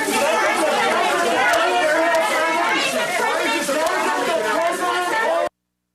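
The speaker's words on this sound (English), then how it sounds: "Here's the sound of a Donald Trump town hall." Dense crowd chatter fills a town hall event for Donald Trump, a steady murmur of many overlapping voices at close range with no single speaker standing out, cutting off abruptly near the end.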